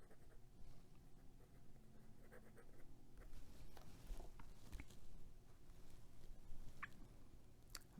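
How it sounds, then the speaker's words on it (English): A Pilot Metropolitan fountain pen with a medium nib writes on paper, giving soft, faint scratching strokes in an irregular rhythm, close up and heard alone in a quiet room. "I can just write with this all day."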